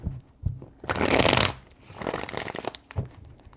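Tarot cards being shuffled in a few quick riffling bursts, the longest and loudest in the middle, with soft taps and handling noises around them and no talking.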